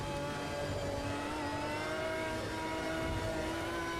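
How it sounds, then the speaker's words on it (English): A Lamborghini race car engine in the Automobilista 2 racing sim, running through the old Monza chicane, drones loud and steady throughout with layered tonal harmonics and no talk. "Man, these downshifts."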